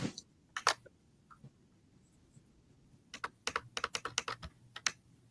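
Typing on a computer keyboard while looking up who held the first deed in the United States: a single keystroke or two, then a pause, then a quick run of close, crisp key clicks.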